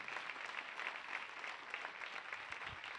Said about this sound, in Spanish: Denle un aplauso al Señor fuerte esta mañana.